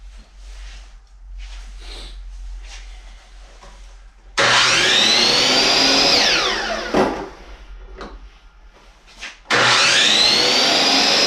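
Power saw trimming the end of a wooden board in a woodworking shop: a loud whining cut runs for about five seconds, then a short pause, then the saw starts cutting again, after quieter background noise at the start.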